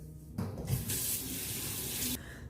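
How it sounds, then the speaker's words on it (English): Hands are washed under a running kitchen tap while preparing chicken wings: a steady close stream of water starts abruptly, runs about two seconds and cuts off, with no talking. "Let me wash my hands off real quick."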